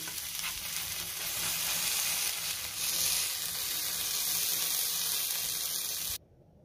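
A paneer frankie roll toasts on butter in a pan, giving a steady, close hiss and sizzle that swells slightly midway and cuts off abruptly near the end.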